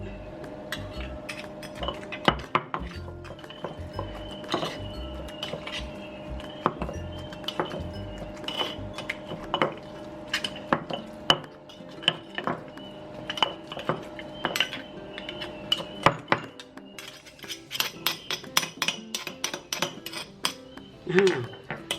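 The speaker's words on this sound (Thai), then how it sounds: "ใส่หมูลงคลุกในนี้เลยค่ะ ซอสปรุงรส" Minced pork is mixed with seasoning sauce in a bowl for a Thai clear soup with pork balls and watercress, giving a steady run of close, busy clinks and scrapes of a utensil against the bowl, with no talking.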